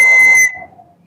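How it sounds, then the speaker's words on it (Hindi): A single sharp, loud blast on a whistle lasts about half a second and cuts off abruptly, leaving a faint fading tail. "सीटी हम ये बजा रहे हैं"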